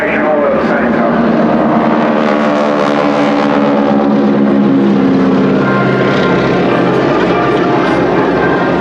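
Propeller aircraft of an aerobatic display team flying in formation at a seaside airshow, a loud continuous droning engine roar with shifting pitch as they sweep past, with a commentator talking over it.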